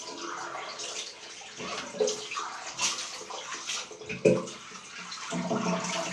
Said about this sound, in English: Now I'm just going to rinse this sink out